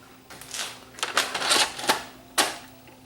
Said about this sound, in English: It kicks the tape out, but it won't load.